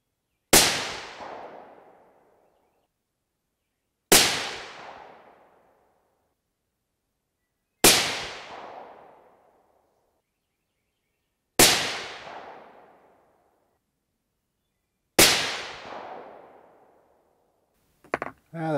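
Five suppressed 6.5 PRC rifle shots firing Hornady 140gr BTHP loads, each a sharp loud crack with a decaying tail, spaced about four seconds apart, and a brief clatter right at the end.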